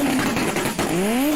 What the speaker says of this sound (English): you can tell that thing doesn't quite sound like a Subaru. I'll tell you right now, this is a 1JZ or 2JZ.